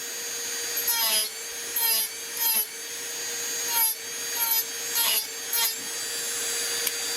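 A Dremel burr carving through hard epoxy into the wood of a carved Bigfoot head: a steady high motor whine with repeated short rasping grinding bursts as the bit bites in, close up.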